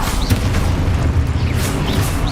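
Confringo blasting spell from Hogwarts Legacy, a loud booming explosion with rumbling low-end bursts and crackling pops packed into a couple of seconds.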